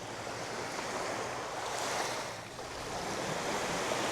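Waves wash steadily onto the beach at Deep Bay, Antigua, near a resort with beach huts, a constant broadband surf roar that swells and eases slightly, with some wind buffeting the microphone.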